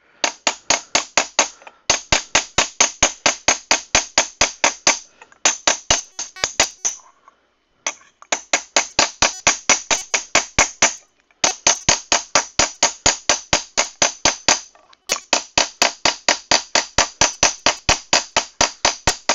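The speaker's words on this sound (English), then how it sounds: "this is a planishing hammer" Rapid, even planishing hammer blows ring on sheet metal in long runs of strikes, separated by brief pauses, loud and close.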